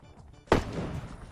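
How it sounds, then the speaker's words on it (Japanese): A single sharp gunshot rings out in the mobile battle-royale game Knives Out on its Tokyo map, a sudden loud crack followed by a brief rumbling tail over quiet game ambience. "わあ、銃声めっちゃ聞こえる。"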